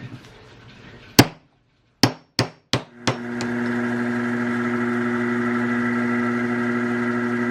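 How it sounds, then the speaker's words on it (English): Four sharp metallic knocks in quick succession as a part is press-fit into a bench, followed by a steady machine hum that continues to the end. "Now we're just going to press fit it in."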